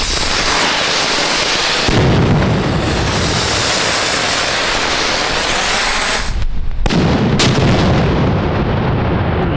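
Powerful consumer fireworks, including a Cobra 20, go off in a near-continuous barrage of loud, close booming bangs that fill the whole stretch, with a brief lull before a few final cracks and blasts.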